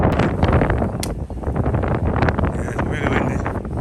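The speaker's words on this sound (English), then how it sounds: "it's really windy." Strong, gusty wind outdoors on a cold day, roaring and buffeting the microphone loudly throughout while a few voices talk underneath.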